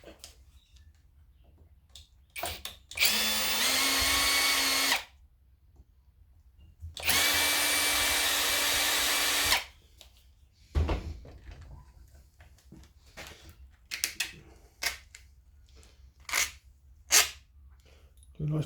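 A power drill backing Phillips screws out of an automatic whipper snipper during a teardown, with two steady whirring bursts of a few seconds each, close up, with scattered clicks and handling noises between them.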